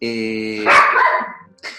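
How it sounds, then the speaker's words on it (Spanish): A pet dog barks close and loud in a home, one sharp bark with a short trailing yelp, coming right after a person's voice and followed by a brief second sound. "es mi perro."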